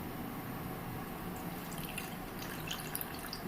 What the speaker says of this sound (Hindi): और अब इसमें डालते हैं दूध।